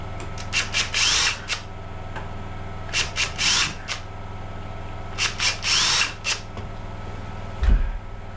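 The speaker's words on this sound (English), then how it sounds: "centre drill that in." A power drill whirs in several short bursts, drilling into a door hinge, starting and stopping in quick pulses, close and loud, with quiet gaps between runs.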